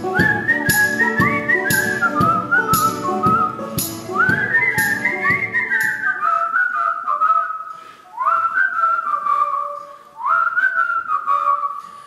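A person whistles a clear, melodic tune, loud and close, first over some rhythmic background accompaniment, then alone in long sliding phrases separated by brief pauses.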